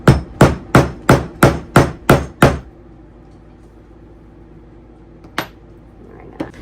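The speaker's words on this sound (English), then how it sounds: "we're going to grab our small setting tool with the dome end over top of the cap with a rubber hammer" Seven sharp, evenly spaced blows of a rubber hammer on a small dome-ended setting tool over a double cap rivet on a leather tote strap, then quiet with one later knock.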